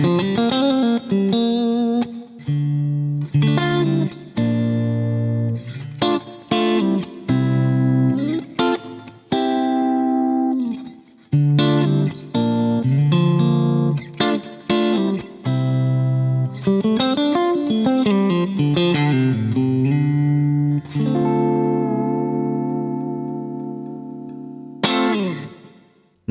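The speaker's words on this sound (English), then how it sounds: "This is a really clean patch that incorporates a compressor" Clean electric guitar from a single-coil pickup through a compressor into a Boss Katana amp, played as a melodic run of picked notes and chords with no breakup, shimmering chorus and light echo, close and steady.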